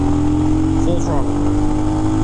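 Royal Enfield Himalayan motorcycle engine held at full throttle on a ride, a continuous loud mid-pitched drone with steady harmonics and wind, a rider briefly talking over it.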